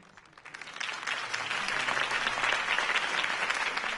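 Crowd applause at a campaign rally for Harvey Dent in a PS4 video game, a dense sustained clapping that swells within the first half second and holds steady and loud to the end.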